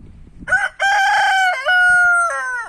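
A fighting-breed rooster crows once at close range, a loud drawn-out call with a rising start and a sustained tail, after a little faint background noise.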